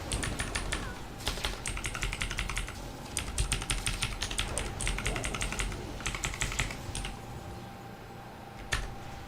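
A computer keyboard clatters steadily during PC gameplay of a WoW-style game, close clusters of quick key presses in bursts with brief gaps, and a last isolated tap near the end.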